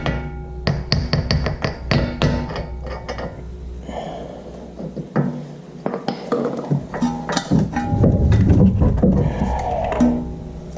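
Loud metallic banging and clanking close by as a hammer drives a CV axle out of a 2007–13 Honda Fit, a series of sharp blows mixed with rattling parts, with no talking.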